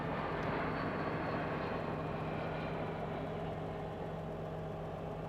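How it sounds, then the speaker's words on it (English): A 1954 Chevrolet Corvette engine idles steadily after a choked cold start, a low even rumble with a constant hum, moderately distant and unbroken, with no voices. "You're gonna pull that choke all the way out and it'll fire up for you"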